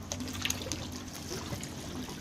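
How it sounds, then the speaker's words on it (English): Water trickles and gurgles steadily, quiet and close, draining through a siphon in an outdoor aquaponics catfish tank, with no voices. "Okay, the siphon is about to start."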